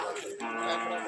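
A cow moos at the Arapiraca cattle fair in Alagoas, Brazil. The brief, loud low call is partly buried in dense, noisy outdoor market crowd sound.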